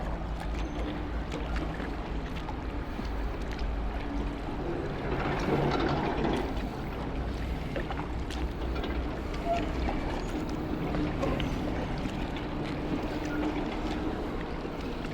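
Kayak paddling along a narrow, polluted urban creek in Philadelphia, a steady low wash of water and wind with faint paddle strokes that swell briefly midway, continuous and close.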